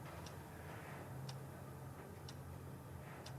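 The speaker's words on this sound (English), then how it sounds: "Do you hear that ticking sound?" An alarm clock ticks faintly in a quiet bedroom at night, with steady, soft ticks about once a second over a low background hum.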